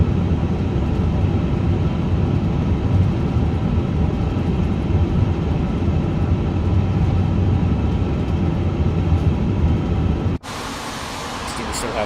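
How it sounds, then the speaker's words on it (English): An Airbus A350 auxiliary power unit spools up in Microsoft Flight Simulator 2024, a steady, loud broadband roar and whine that holds constant, then cuts abruptly to a thinner, brighter hum near the end. "So I'm going to get the APU started"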